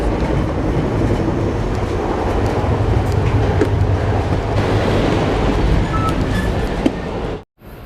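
VIA Rail's Canadian passenger train rolling along CN track in northern Ontario, a steady loud rumble and clatter of rails heard from inside the car, continuous throughout before cutting out abruptly near the end.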